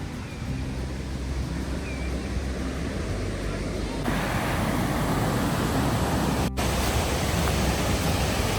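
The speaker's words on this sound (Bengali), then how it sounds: "এই হচ্ছে ঝর্ণা" A village waterfall gives off a steady, close roar of rushing water, a broad hiss that grows a little louder and fuller halfway through and continues without a break.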